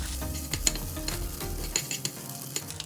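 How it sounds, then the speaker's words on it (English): Egg fried rice with green onions stir-fries in a pan over medium heat, a soft steady sizzle with light scraping and tapping of a spatula at irregular intervals, close and unaccompanied by talk. "Stir-fry it over medium heat for 1 more minute"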